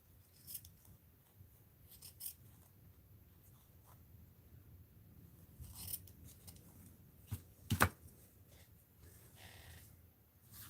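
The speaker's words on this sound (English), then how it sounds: "And I'm going to snip some gold." Scissors snipping gold craft material, a few quiet cuts scattered across a hushed tabletop, with one sharper, louder snip standing out near the end.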